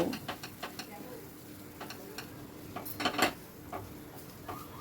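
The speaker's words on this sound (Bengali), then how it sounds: "এবারে সব কিছু ভালো করে মিশিয়ে নেব।" A spatula stirring a potato and spice filling in a pan over a medium-high gas flame, with quick light taps and scrapes in an irregular rhythm, close and fairly soft.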